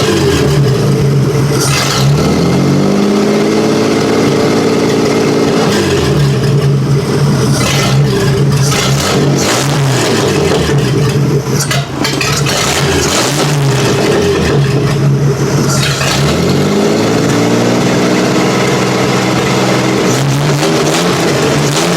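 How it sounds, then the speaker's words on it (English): A Dodge Plymouth 230 engine revs up repeatedly, pitch climbing and falling in several surges over a constant idling roar, close and dominant. "Let's give it some revs here."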